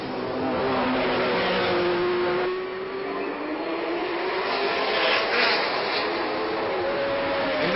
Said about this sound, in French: Une voiture passe assez au ralenti.